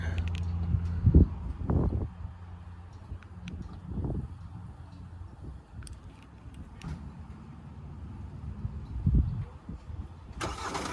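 A 2020 Kia Sorento GT-Line starting by remote after being double locked: a low engine turnover and catch, followed by a steady mid-pitched idle with a few louder low surges, heard nearby with no talking.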